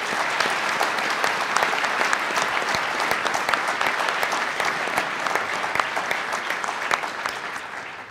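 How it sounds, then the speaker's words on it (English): An audience claps for the contestants at the 2012 Michigan Farm Bureau Young Farmer Discussion Meet finals, a loud dense round of applause that holds steady for the whole stretch. "Let's give them all a round of applause."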